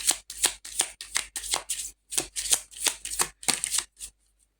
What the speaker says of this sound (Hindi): let me take one more card from here